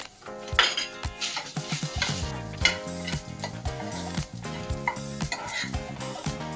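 Freshly grated coconut sautéed in a pan for Maharashtrian ukadiche modak, with a spoon scraping and clinking against the metal in steady strokes over a faint sizzle, close and fairly loud, no voices.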